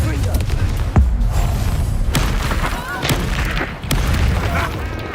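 Booming spell blasts and impacts from Hogwarts Legacy combat, a Confringo fire explosion among several loud bursts over a dense, continuous game soundscape with a voice calling out spells.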